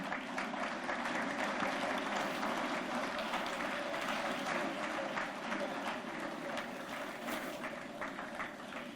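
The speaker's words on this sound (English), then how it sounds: "can we stand up and give the celebrant a round of applause?" Steady applause from a large standing crowd honoring a celebrant fills the whole stretch, a dense patter of many clapping hands with a faint murmur of voices mixed in.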